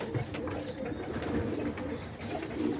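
Homing and roller pigeons coo in a loft, low soft throaty calls repeating close by over steady background rustle and noise, with no talking.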